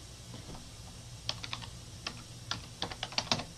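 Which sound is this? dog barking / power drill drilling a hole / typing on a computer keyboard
typing on a computer keyboard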